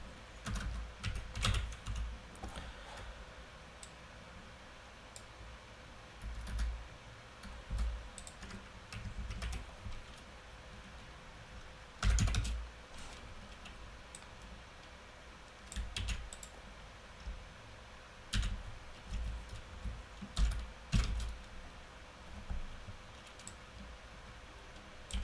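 Steady typing on a computer keyboard while coding, with soft, close key clicks coming in irregular bursts and short pauses over a quiet room hum, and no talking.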